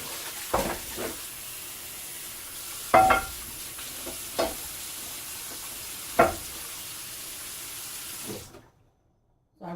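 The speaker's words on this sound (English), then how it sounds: "I'm going to rinse my skillet out." Tap water runs steadily into a hot skillet in a home kitchen while a big breakfast bowl is being cooked, with a few louder splashes and clatters as the pan is rinsed, then it cuts to silence.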